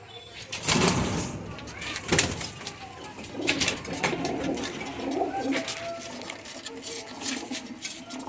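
Punjabi pigeons coo repeatedly in a loft in Beldanga, with soft throaty calls, occasional wing flaps and rustling, and a few bursts of nearby voices in the background.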